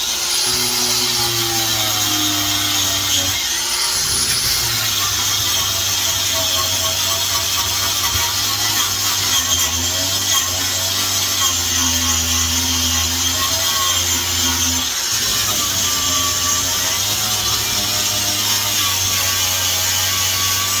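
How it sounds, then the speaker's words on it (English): A wire wheel scrubs bare metal on a Honda CRX floor pan, a steady, loud, continuous grinding whir with a slight wavering pitch that runs unbroken throughout. "Wire wheeling"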